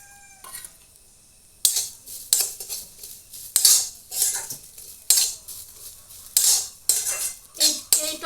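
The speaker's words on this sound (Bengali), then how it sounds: "এখন আমি তিলটা ভেজে নেব" Home-grown sesame seeds roast in a wok while a metal spatula stirs them repeatedly, making loud rhythmic scrapes and clinks with faint sizzling between strokes, close up.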